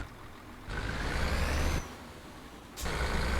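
A diesel big-rig engine in Euro Truck Simulator 2 rumbles steadily, then drops and surges again as the truck shifts into gear, a low, fairly quiet drone with short breaks between revs.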